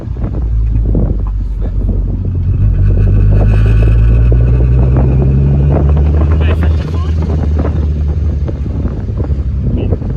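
A VR6 turbo-swapped MR2 Roadster pulls from low revs in fifth gear, its deep engine drone rising slowly and steadily. It stays loud and close throughout, with heavy wind buffeting over it.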